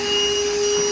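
A vacuum cleaner running steadily with a loud, constant whine and a sustained high tonal hum, close and unbroken.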